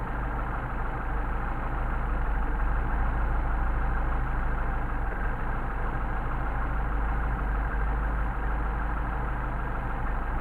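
A Mercedes 190SL engine with Solex 44PHH carburetors idling during idle and mixture adjustment, a steady low rumble holding even throughout, close and moderately loud with no voices.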